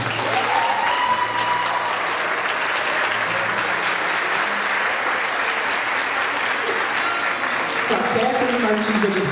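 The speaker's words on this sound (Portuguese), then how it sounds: "Uma salva de palmas." Sustained applause from an audience at a seminar, dense and steady for the whole stretch, with faint voices underneath toward the end.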